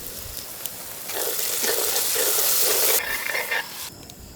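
Onion, tomato and ginger-garlic paste sauté in a pan for a Kerala fish pollichathu masala. A soft sizzle swells into a louder frying crackle with stirring, then eases back down.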